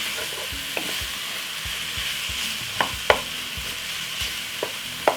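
Jamaican curry beef cooks down in a pot, giving a steady close sizzle broken by several sharp scraping stirs and clinks of a spoon against the pot, with no talking.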